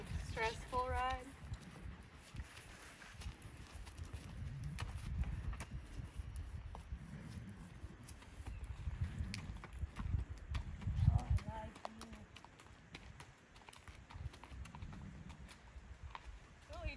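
Horse hooves clip-clop at a walk on a trail ride, a steady rhythm of close, fairly quiet strikes running under ongoing conversation between riders.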